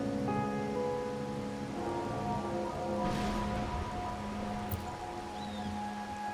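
Steady rain falls in the Wuthering Waves video game, a constant hiss of drops on surfaces under soft sustained background music, with no one talking.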